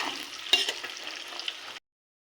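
Spinach paste hits eggs and onions frying in a pan, giving a steady close sizzle with a few stirring clatters that stops abruptly, leaving silence.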